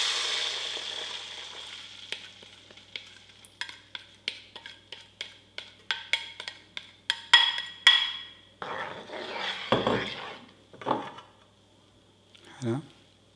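Hot oil on medium heat sends out a series of sharp, separate crackles and pops, followed by louder bursts of sizzling as a garlic and onion mixture hits the pan, then fades toward quiet.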